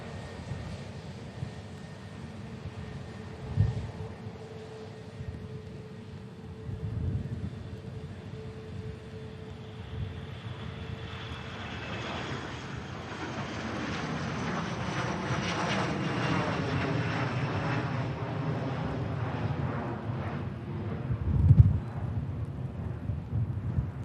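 A Virgin Atlantic airliner departs Manchester Airport for Atlanta, its engines spooling up in a distant, steady roar that swells and broadens over the second half, with a thump near the end.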